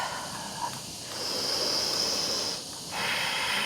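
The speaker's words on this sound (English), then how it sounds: "Take a couple of deep breaths here." Slow deep breathing during a yoga pose: two long, close, airy breaths with a soft hiss, each drawn out for about a second or more, alone in a quiet room.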